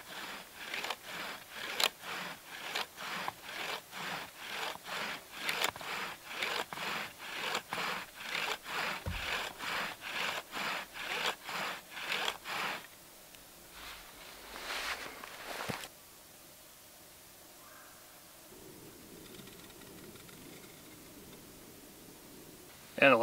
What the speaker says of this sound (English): we're gonna seat or burn in that spindle into our fireboard